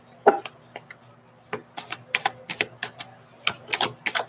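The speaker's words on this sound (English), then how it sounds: "Let me shuffle 3 times." Rapid, crisp clicking and flapping bursts ripple in quick succession as a deck of cards is shuffled, close and fairly quiet.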